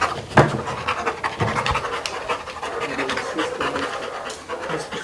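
A police detection dog pants rapidly and steadily at close range while searching a room cluttered with objects for drugs, with faint scratching and shuffling mixed in.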